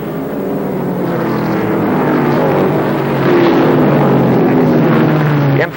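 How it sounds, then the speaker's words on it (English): ARCA stock cars race at Kil Kare Speedway in 1995, a loud, sustained engine roar with shifting exhaust pitches as several cars pass close, steady throughout with no break. "Interesting listening to the sound of the cars. You will hear two distinct different types of exhaust notes."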